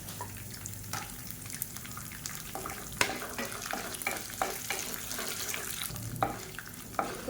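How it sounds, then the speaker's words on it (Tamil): Chana dal fries in hot oil with Kashmiri dried chillies and garlic cloves, a soft constant sizzle broken by repeated scraping stirs and clinks of a spoon against the pan, close and moderately loud, with no talk. "கடலைப்பருப்பு நல்லா பொரியுது."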